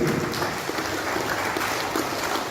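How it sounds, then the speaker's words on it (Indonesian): Continuous audience applause at an event for a Bank Papua payroll presentation, steady dense clapping throughout with a faint voice briefly underneath. "Kita berikan aplaus buat Bapak Abraham Kiai."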